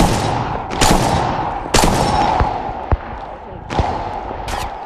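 Sharp gunshots in Apex Legends Mobile, several loud cracks in irregular bursts with quick echoing tails, close and punchy over game background noise.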